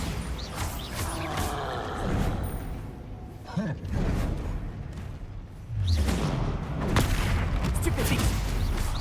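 Bombarda blasting spell going off in Hogwarts Legacy, a booming magical explosion with a whooshing swell amid dense, busy game combat noise and effects, loud and sustained over several seconds.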